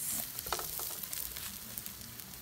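Onions frying in a pan with garlic, ginger and chili for mushroom adobo, giving a steady close sizzle with scattered crackles and pops for a couple of seconds, no voices.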